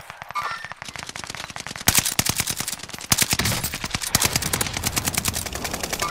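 Rapid, loud bursts of automatic gunfire from an enemy in a multiplayer shooter game, with dense repeating shots rattling close by and continuing almost without pause.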